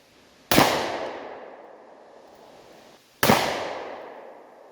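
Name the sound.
10mm pistol shot hitting a cinder block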